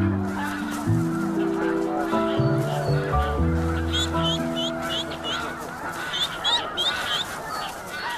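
Snow geese honk loudly and repeatedly at an Arctic nesting site during hatching, overlapping calls from several birds close by, with lower drawn-out tones early on and sharper honks toward the end.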